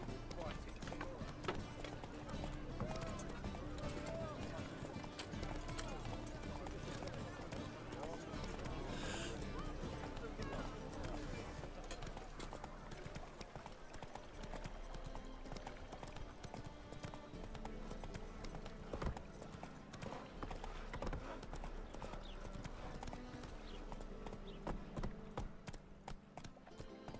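Roach the horse gallops in The Witcher 3, a steady clip-clop of hooves running under a dense bed of game music and ambience, with voices talking over it.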